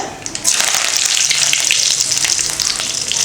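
Curry leaves drop into hot oil with popping mustard seeds, bursting into a loud, sudden hissing sizzle that stays strong and close throughout.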